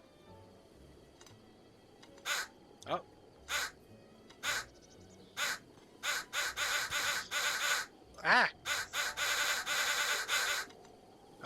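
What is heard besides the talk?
crows cawing from a crow cannon in a video game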